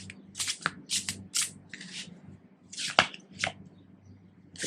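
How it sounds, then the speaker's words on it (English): Starman Tarot cards shuffled by hand, a series of crisp papery riffles and flicks in irregular bursts with soft snaps between them, close and fairly quiet, no talking. "We are giving them a shuffle until they tell me to stop"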